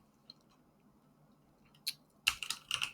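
A few key presses on a computer keyboard, the Shift and 7 combination for an ampersand, heard as a faint isolated click followed by a short burst of several close, crisp taps near the end, with no talk.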